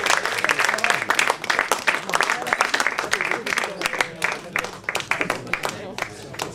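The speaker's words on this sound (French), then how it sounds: "un grand applaudissement" Audience applause after a poetry reading at a café event, a steady wash of clapping from a small crowd with voices mixed in.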